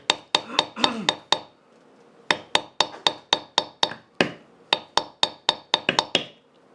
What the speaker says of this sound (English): I forgot that the pear shading is also the loud part. Gotta hit it a little harder.